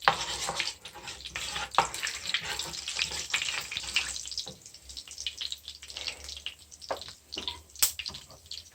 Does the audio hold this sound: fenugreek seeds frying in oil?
yes